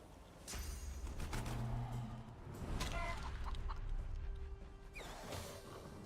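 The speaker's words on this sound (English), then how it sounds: "Okay, I turned that one into a chicken." A transformed chicken in the video game Divinity Original Sin 2 clucks in a run of short, close squawks over a low game soundscape, with a few sharp effect hits.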